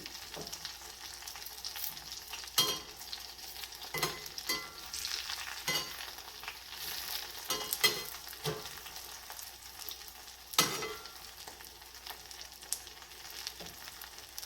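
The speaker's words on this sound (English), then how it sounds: "I attempted to do the coconut shrimp in the oil" Keto coconut shrimp coated in almond and coconut flour fry in a pan of oil, giving a steady close crackling sizzle broken by a few sharp pops and clinks from turning the pieces.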